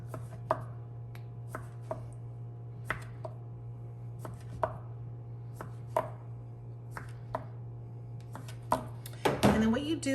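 A knife chops through cinnamon roll dough on a greased surface, making about a dozen sharp, evenly spaced taps close by, with a louder clatter near the end over a steady background hum.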